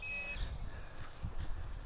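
Metal detector sweeping a forest floor gives a steady electronic tone that holds clearly at the start and then fades into rustling and scraping noise close to the microphone.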